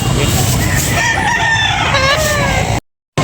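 A white hatch rooster for sale crows loudly and close against steady outdoor background noise, the call cutting off abruptly before a brief silence.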